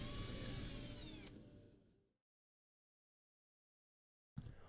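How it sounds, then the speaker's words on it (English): An electric drill with a long bit bores through a guitar body, running loud and steady, then winding down into silence before a brief burst of sound returns. "we're going to drill a hole here using a long bit connecting the two cavities"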